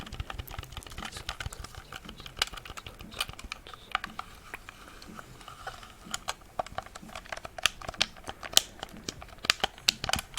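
Crisp, dense clicking from game controller triggers and buttons pressed in quick irregular bursts, close and fairly loud, with no voices.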